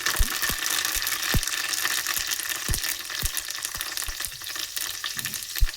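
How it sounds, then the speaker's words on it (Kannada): Cumin seeds and curry leaves sizzling in a few spoons of hot oil, a constant close crackle and hiss with occasional spoon knocks and scrapes. "ಸೊ ಇವಾಗ ಇದಕ್ಕೆ 1 ಸ್ಪೂನ್ ಜೀರಿಗೆ ಹಾಕೋತಾ ಇದ್ದೀನಿ"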